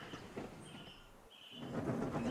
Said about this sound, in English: taking a goods train to Barrow